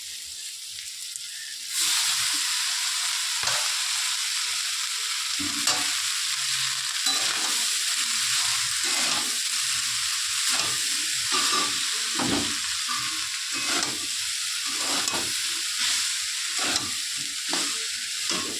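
Pasta fries and is stirred in a pan, a steady loud sizzle after a quiet start, broken by repeated scraping and clacking strokes of the spoon.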